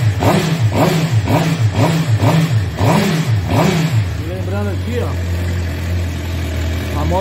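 A Suzuki motorcycle engine with a newly installed starter motor runs and revs in a rapid series of rising-and-falling throttle blips, then settles into a steady, loud idle.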